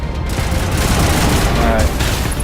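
Rocket launcher fire and explosions in the Mass Effect: Legendary Edition video game, a loud, dense barrage of booms and gunfire that rumbles continuously.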